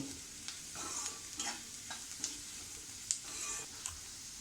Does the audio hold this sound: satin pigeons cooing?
no